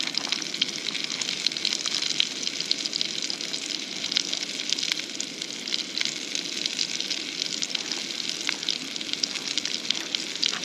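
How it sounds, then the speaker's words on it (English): Hot dog buns or rolls toasting in a hot pan give a steady, close sizzle with fine crackling that holds at an even level throughout, with no talking. "Turn it down because we're going to toast the buns or rolls."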